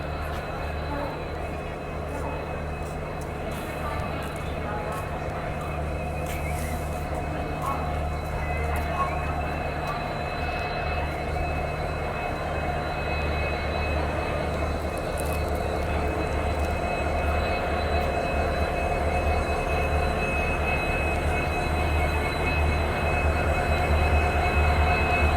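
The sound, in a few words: Indian Railways train hauled by WDP 4 locomotive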